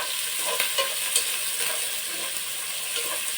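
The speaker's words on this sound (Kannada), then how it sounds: "ಸೊ ಇದಕ್ಕೆ ಇವಾಗ ನಾನು 2 ಈರುಳ್ಳಿನ ಚಿಕ್ಕದಾಗಿ ಹೆಚ್ಚಿಟ್ಕೊಂಡಿದ್ದೀನಿ," Two chopped onions hit a few spoons of hot oil in a pan for bisi bele bath, giving a steady close sizzle broken by light stirring scrapes.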